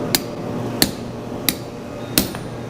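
Four sharp hammer blows on hot steel during knife forging at an anvil, evenly spaced about two-thirds of a second apart, ringing and close over a low background hum.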